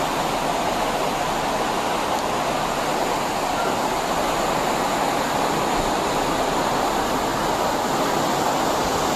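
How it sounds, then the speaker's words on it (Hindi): Floodwater from a storm rushes through city streets in a loud, steady, unbroken roar of churning water that holds its level from start to finish. "ठाठे मारता पानी शहरियों के लिए जहमत का बायस बन गया।"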